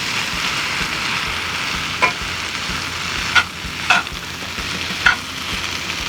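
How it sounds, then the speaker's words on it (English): Corned beef being mixed into hash frying in a pan, a steady close sizzle punctuated by four sharp spatula clacks against the pan at uneven intervals, with no voices. "Add our corned beef. And we'll mix that in too."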